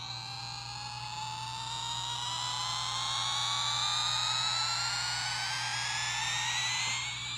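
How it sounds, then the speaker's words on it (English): A toy UPS cargo plane plays its electronic takeoff effect: a steady, rising synthetic whine of stacked tones climbing in pitch over several seconds over a constant low hum, loud and close with no talking. "it's a UPS plane, and it makes the same standard plane noise that every single plane that I find makes"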